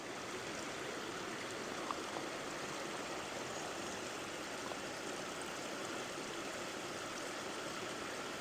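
A river stream runs steadily and continuously near a country footpath by old stone bridges at Wycoller, a dense broadband rush of flowing water with no voices.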